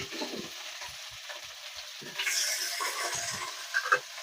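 Diced potato and vegetables fry in a pan with a soft, continuous sizzle, swelling louder partway through as ingredients are stirred, with occasional clinks and scrapes.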